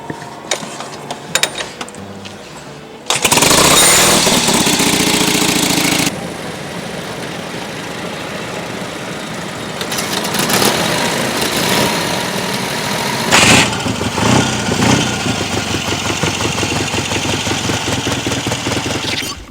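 An old motorcycle engine starts after a few faint clicks and knocks, bursting into a loud roar, then settles into a steady, throbbing idle with a brief sharp rev partway through. No one speaks.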